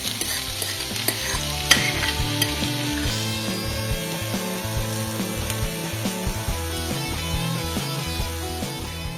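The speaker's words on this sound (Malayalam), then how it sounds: "ഇത്രയിട്ട് ലോ ഫ്ലെയിമിൽ ഒന്ന് ഇളക്കിയെടുക്കാം." Fish cutlet masala with fried fish being stirred in a pan over a low flame, a steady close sizzle and frying hiss running throughout, broken by repeated scraping strokes of the spoon.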